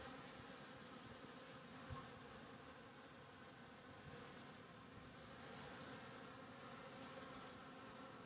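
Honey bees inside a fire riser during a cutout, a dense, steady buzzing hum that stays faint and even throughout with no voices.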